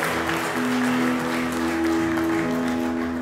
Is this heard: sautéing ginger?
no